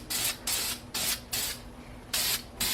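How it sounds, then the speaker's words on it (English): Close, loud hissing bursts of spray paint lay a light coat on an M100 6.3 engine block, six short sprays in an uneven rhythm with brief gaps between them. "So a nice light coat."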